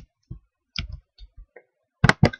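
Computer mouse clicks while working in LTspice circuit simulation software, a handful of short, sharp, close clicks spaced irregularly, with a tight double click near the end.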